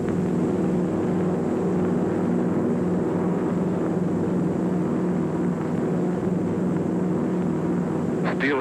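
A B-17 bomber formation drones in flight, a dense continuous roar of multiple piston engines with a steady hum throughout, loud and unbroken.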